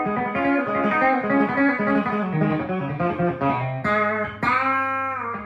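A clean Telecaster electric guitar rings out through a Deluxe Reverb Tonemaster amplifier, playing sustained chords and notes with no distortion, loud and close.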